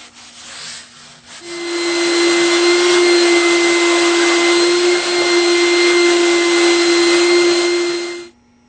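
A vacuum cleaner lifts sawdust off a wooden violin plate. It starts up after a brief scrape, runs as a loud steady whine for about seven seconds, then cuts off.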